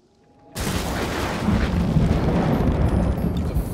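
Thunder from an approaching storm in the video game Ghost of Tsushima bursts in abruptly as a loud, deep rumble and sustains a rolling roar for several seconds, with no talk.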